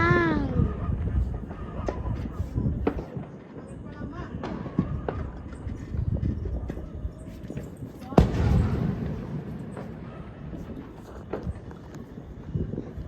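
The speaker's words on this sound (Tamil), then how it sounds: "வெடிச்சு தாக்குது திருச்சி." New Year firecrackers crackling and popping in a rough, uneven series with a sharper burst partway through, amid outdoor commotion and talking in Trichy, India.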